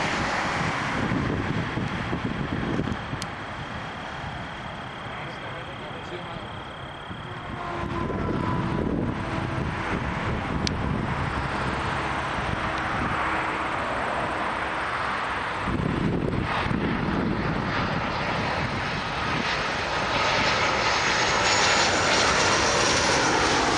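Air Canada Boeing 777-200LR airliner engines at an airport, a broad steady roar that swells louder after several seconds and stays strong, with wind buffeting the microphone throughout.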